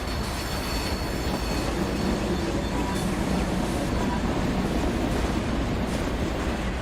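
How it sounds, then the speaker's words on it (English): Recorded real train sound used in the Trainz railway simulator, a steady loud rumble of rolling rail cars with wheel noise and faint squeal, continuous and close, no talk. "This sound right here was taken from a train coming out of."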